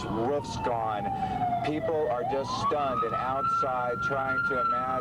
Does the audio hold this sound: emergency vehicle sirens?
yes